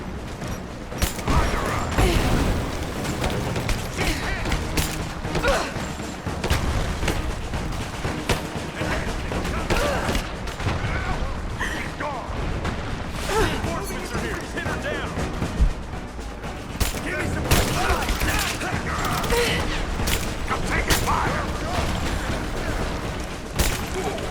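Gunfire in the Rise of the Tomb Raider video game comes as dense, repeated bursts of shots and impacts over a busy battle din, with shouted voices throughout.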